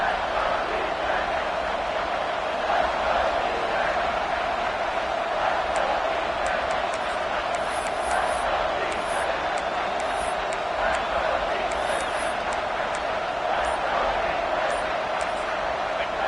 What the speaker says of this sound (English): the crowd coming to life here trying to help this defense down in the red zone